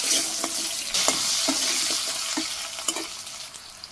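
Potato pieces fry with salt in a pan for a village mustard curry, a steady close sizzle broken by repeated scraping and clinking stirs, no one speaking.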